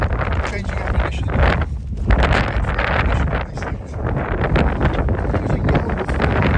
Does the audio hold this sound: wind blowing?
yes